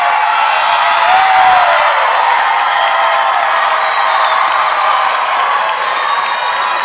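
A steady, dense crowd roar at a collegiate gymnastics meet, the A&T MEC final between Fairmont State and Frostburg State, holding at an even level throughout with no clear claps or single voices standing out.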